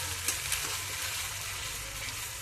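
Cumin paste with a dried red chilli frying in hot oil for potato and pea dum gives a steady, soft sizzling hiss over a low background hum, with a couple of faint clinks.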